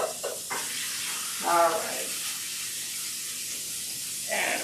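Short ribs sear in a hot pan for braising, giving a steady close sizzle and hiss with a brief louder burst, while people talk over it.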